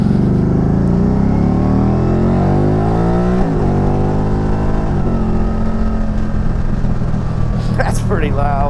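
A Can-Am Spyder ST-S three-wheeler fitted with an Akrapovic exhaust revs loudly up close, its engine pitch rising and falling through several throttle blips over a steady idle rumble.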